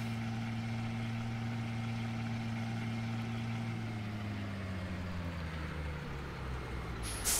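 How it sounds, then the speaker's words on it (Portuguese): A truck passes close by, its heavy engine droning steadily with a falling pitch as it goes, ending in a short hiss like an air brake. "Deixa eu deixar aquele caminhão passar."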